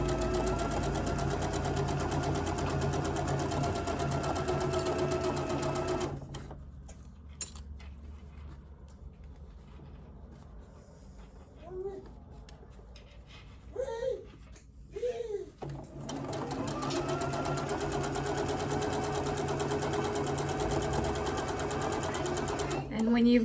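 A sewing machine runs along a seam of a Christmas quilt, its close, steady whirring needle rattle stopping for a stretch of quiet handling noises with a few brief voice sounds, then resuming as loud as before.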